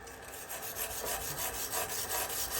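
Slag being scraped and brushed off an arc weld joint, a steady close rasping and scrubbing sound at a quiet level, running continuously with no talk.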